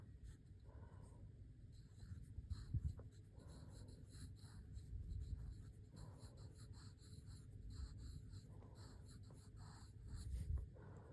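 Pen or marker scratching steadily while a solution is written out during a lecture, a soft continuous rasp with small strokes over a low background rumble, quiet and close, without speech.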